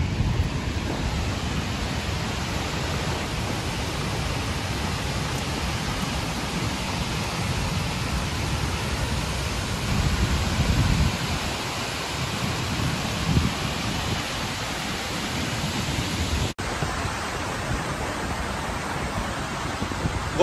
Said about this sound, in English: And we're actually coming across to the waterfall area itself right now.